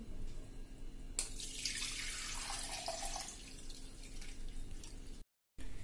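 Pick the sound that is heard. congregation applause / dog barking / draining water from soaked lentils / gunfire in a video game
draining water from soaked lentils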